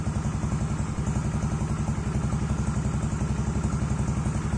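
A motorcycle engine idling while still cold, a fast, even putter of low thumping pulses with a light mechanical clatter, close and steady throughout with no talk.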